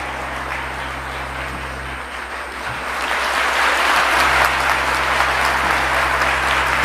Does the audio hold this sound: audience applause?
yes